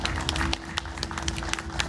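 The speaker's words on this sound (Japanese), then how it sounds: "お二人どうぞ大きな拍手お願いいたします" An audience claps for two guests at a GT-R Magazine talk show at Auto Messe 2014, giving a short burst of dense, steady applause from a crowd.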